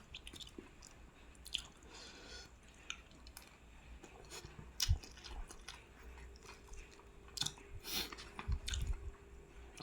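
Close, moist chewing of Thai crispy pork belly with Chinese kale (khana mu krop), with soft crunches and irregular bites over about ten seconds, no talking.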